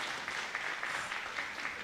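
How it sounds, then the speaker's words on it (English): Crowd at a Pro Wrestling NOAH match between Takashi Sugiura and Masaaki Mochizuki, cheering and clapping steadily for the challenger in a continuous broad roar with rhythmic swells. "The crowd getting behind the challenger here"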